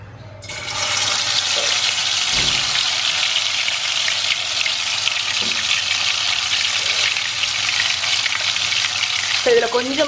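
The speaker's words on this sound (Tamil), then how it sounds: "இதில் வந்து நம்ம அரைச்சி வச்ச பேஸ்ட்டை போட்டு குக் பண்ணலாம்." Ground spice paste for rendang sambal chicken hits hot oil in a pan with a sudden loud sizzle that keeps frying steadily and close, broken by a couple of soft stirring knocks.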